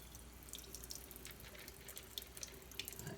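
Water runs steadily from a sink tap while suds are rinsed away, a quiet, continuous splashing stream with a few small drips and splashes on top.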